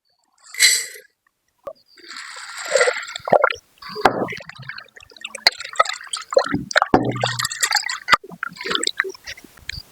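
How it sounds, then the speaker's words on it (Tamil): Chana dal being washed in water by hand in a kitchen, with irregular sloshing, splashing and dripping bursts separated by short pauses, close and fairly loud. "கடலப்பருப்பு கழுவியாச்சுங்க."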